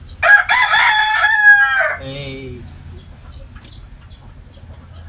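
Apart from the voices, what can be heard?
rooster crowing and chickens clucking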